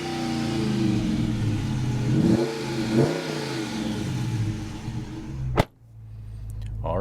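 2022 Dodge Charger RT with its naturally aspirated 5.7 Hemi V8 revving close by, a loud rumbling engine that rises and falls in a few throttle blips, then a sharp thud and a quieter idle.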